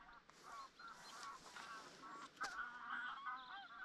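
Geese honk over a loch on the Isle of Mull, several faint, distant calls overlapping in an irregular chorus against a quiet outdoor background.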